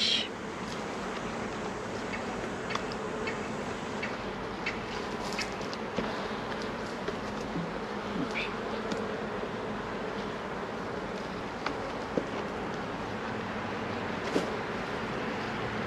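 A continuous hum of many honeybees buzzing close by around hive frames, steady throughout with occasional soft knocks and rustles.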